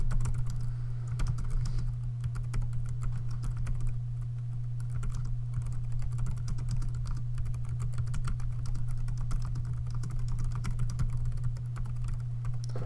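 Typing on a computer keyboard while a resume is written in a word processor, a steady run of light key clicks over a constant low hum throughout.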